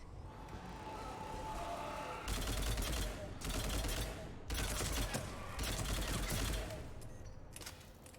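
Sustained automatic gunfire from a weapon in Mass Effect 3, fought against husks, comes in several long loud bursts separated by brief pauses, dense and close, with faint voices underneath.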